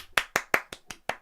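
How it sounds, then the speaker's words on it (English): One person claps hands as applause into a podcast microphone: six quick, sharp claps in an even rhythm, close and dry, with no voices. "That was my applause, but it didn't sound great over the microphone"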